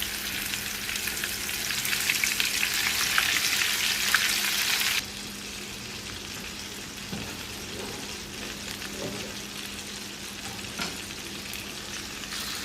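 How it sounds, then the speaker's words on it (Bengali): Meat sizzles steadily in a hot pan, a loud crackling hiss that drops to a softer simmering fry midway, with occasional stirring scrapes. "একইভাবে এই মাংসগুলো ভেজে নিব, উল্টে পাল্টে দিব।"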